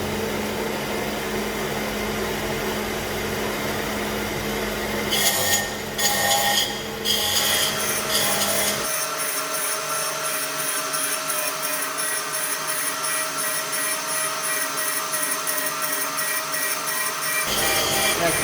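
Flywheel grinding machine resurfacing a clutch flywheel face, a steady loud mechanical hum and whine with a few clattering bursts early on, then a smoother, even grinding drone that holds for several seconds before easing back.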